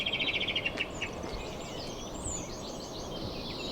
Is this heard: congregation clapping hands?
no